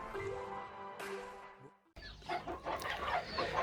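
A broody hen clucking close by in a short burst, with a brief break and then noisier scratchy clucks and rustling.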